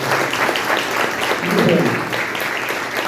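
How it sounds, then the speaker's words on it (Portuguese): Church congregation applauding during a Sunday morning service, a steady, dense wash of clapping from a crowd that holds through the whole stretch, with a voice briefly audible underneath. "Aplauda o Senhor em nome de Jesus."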